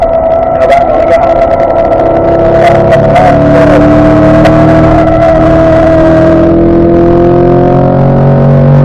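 A Chevrolet Corvette C8 race car accelerating on a racetrack, the engine note loud and close as it climbs steadily in pitch under full throttle, with a continuous roar throughout.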